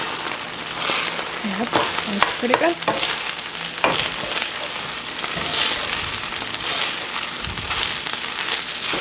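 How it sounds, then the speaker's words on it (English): Trader Joe's frozen fried rice is stirred in a hot frying pan, a steady loud sizzle with scraping spatula strokes near the mic, and a voice speaks briefly over it. "Now let's give this one a stir."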